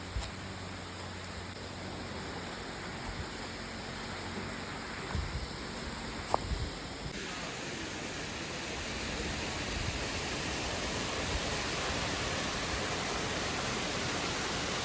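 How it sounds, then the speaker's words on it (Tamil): A hidden waterfall near Thrissur pours in a steady, dense, hissing rush of falling water that fills the scene evenly and continuously, with a few faint knocks early on. "ஸோ இது ஒரு நல்ல ஒரு ஹிடன் ஸ்பாட்டு ஃபால்ஸுங்க"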